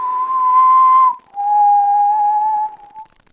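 A person whistles a steady two-note tune alone, a long held note followed by a slightly lower one after a brief pause, fairly loud and close, mimicking the Negan whistle.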